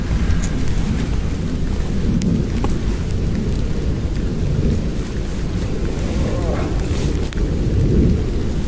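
Heavy rain pours steadily at a fishing lake at night, a constant loud hiss with a low rumble of thunder beneath it and gusts of wind buffeting the microphone.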